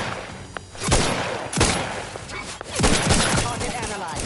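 Gunfire in The Outer Worlds 2 on PS5 Pro: several heavy, booming shots land a second or so apart among a steady clatter of combat noise, loud and close.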